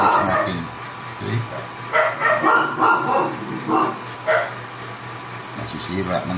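A dog barking inside a house during cooking, several sharp repeated barks in a quick cluster, fairly close, with a person talking over and between them.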